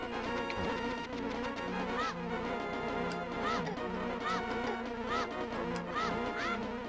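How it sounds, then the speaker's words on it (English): A bee in Zelda: A Link to the Past buzzes steadily under busy chiptune game music, with small chirping effects repeating across several seconds. "It's a bee."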